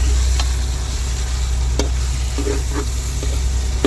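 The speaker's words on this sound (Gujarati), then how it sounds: "ચમચી મારવાનું ચાલુ જ રાખવાનું છે આપણે." A steady sizzle of fish mince frying in a pan, with a few scraping clinks of a spoon stirring through it.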